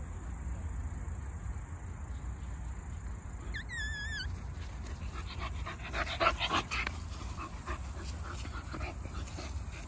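Dogs, including a bull terrier puppy, panting steadily in hot weather, close and continuous, with insect or cricket chirping and a brief high whistling sound partway through.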